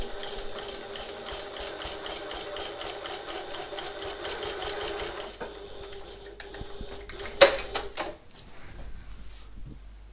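A sewing machine runs a rapid, evenly rhythmic stitch along handbag seams for several seconds, then stops, followed by a sharp click and quieter mechanical handling.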